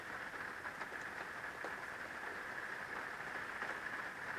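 Steady light rain falls at a lakeside campground in the Sierra, a soft continuous hiss with scattered faint drips, distant and even throughout with no voices.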